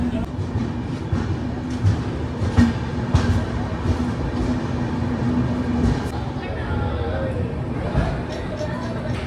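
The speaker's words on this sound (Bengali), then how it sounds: "পাঁচটা চল্লিশে কিন্তু একদম ট্রেন ছেড়ে দিল" The Padatik Express (12378), New Alipurduar to Sealdah, rolling along with a steady, dense rumble and rattle, continuous throughout, with faint voices murmuring in the background.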